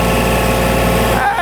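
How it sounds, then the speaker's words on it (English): A Kubota L2502 tractor engine runs at a steady, loud, throbbing drone close by, its pitch holding level with a slight shift near the end, while a voice talks over it. "if we rev this tractor up and take the loader straight up"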